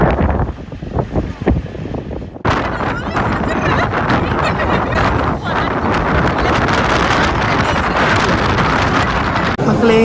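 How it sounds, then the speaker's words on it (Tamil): Strong wind blasting across a beach facing the open ocean, a loud, continuous roar of gusts buffeting the microphone, with a short calmer stretch at the start and surf underneath. "ஐம்பத்தி 9 கிலோமீட்டர் வேகத்துல காத்தடிக்குது."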